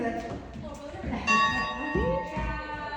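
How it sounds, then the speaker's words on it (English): A bell rung at Wildlife Prairie Park, with bright ringing tones sounding at about 1.3 seconds and again near 2 seconds, heard over an outdoor background of children and adults talking. "Ring the bell."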